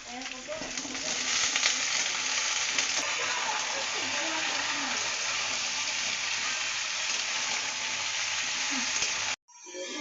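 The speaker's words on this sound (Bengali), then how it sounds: "এখন আমি দিয়ে দেবো সবজিগুলো এই যে সবজিগুলো দিয়ে দিচ্ছি" Chopped raw banana, papaya and potato fried in a pan for a spicy curry. A loud, dense sizzle runs steadily throughout with faint stirring, then cuts off sharply near the end.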